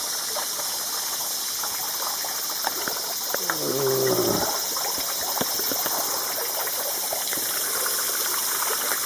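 The Fudo waterfall in Izu-no-kuni, Japan, splashes and rushes continuously at close range, a steady bright wash of falling water, with a brief voice heard midway.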